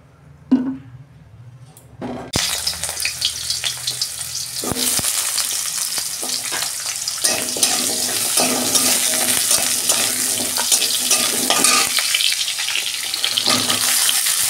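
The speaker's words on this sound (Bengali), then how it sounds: "কড়াই তেল দিচ্ছি, সবজিগুলো ভাজবো।" Vegetables (pumpkin, eggplant, potato) hitting hot oil in a wok: after a few knocks, a loud, close sizzle starts suddenly and continues steadily with occasional stirring clinks.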